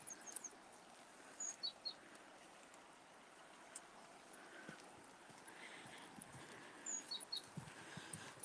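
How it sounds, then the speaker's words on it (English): Faint, scattered bird calls chirp a few times on a late-afternoon riverside walk along the Tagus River in Toledo, Spain, above a steady outdoor background hiss, with no talking. "I'm hearing bird calls as well"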